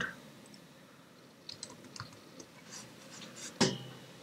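Sparse keyboard shortcut presses on a computer keyboard while working in Adobe Illustrator: a few light, scattered clicks over quiet room tone, ending with one sharper, louder key tap.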